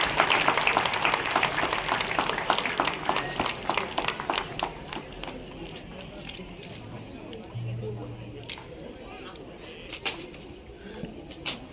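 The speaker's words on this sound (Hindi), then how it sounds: "तो जोरदार तालियों से स्वागत कीजिए सारे अतिथियों का।" Applause welcomes guests at a book release during an International Day of Persons with Disabilities event. It is loud and dense at first, then thins into scattered claps, with talk under it.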